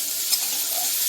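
Potatoes frying in hot oil with green chilli while being stirred, a close, loud, steady sizzle with faint scraping, no voices.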